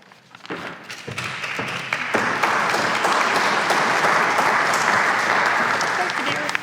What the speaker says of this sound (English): let's give our winners another round of applause